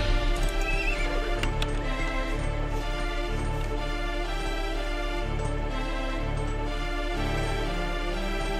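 Horses in the strategy video game Age of Empires II neigh and whinny amid a dense, steady game soundscape with hoof clip-clops, held at a constant moderate level throughout with no talking.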